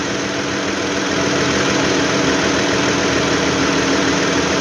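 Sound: Dodge car engine idling

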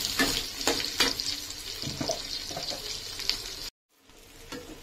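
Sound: onions sautéing in a pan for pasta

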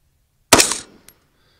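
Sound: 223 rifle shot fired at a target 990 yards away

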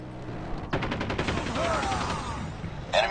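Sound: rapid gunfire in the video game Call of Duty

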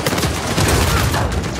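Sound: gunfire in Uncharted 4 multiplayer video game

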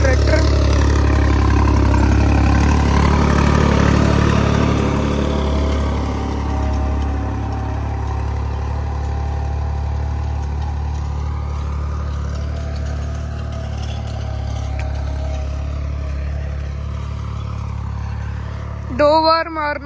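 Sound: tractor engine running

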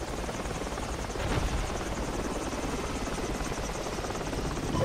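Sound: enemy helicopter in video game Battlefield 2 Project Reality

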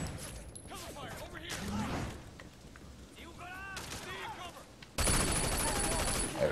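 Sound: gunfire in the Sleeping Dogs video game

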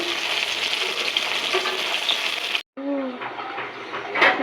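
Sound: rohu fish frying

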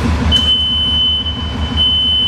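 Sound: forward travel alarm of Genie Z45/25N articulated boom lift

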